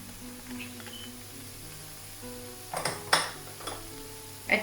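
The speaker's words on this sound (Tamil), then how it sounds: "சிக்கன் இப்படி வதங்கி வந்தா பிறகு நான் எடுத்து வச்சிருக்கிற மிளகாய்த்தூள் ஆட் பண்ணுறேன்" Chicken sautéing in a pan while chicken rolls are made: a faint steady sizzle with several clinks and scrapes of a spoon stirring against the pan, close and intermittent, no talking.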